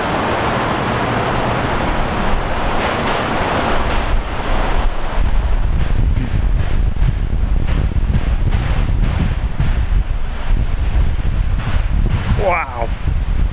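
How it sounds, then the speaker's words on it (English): Strong storm wind over 30 knots gusts at an airport during a severe storm, a loud continuous roar buffeting the microphone with rumbling surges and no clear speech. "I think that wind's picked up more than 30 knots now"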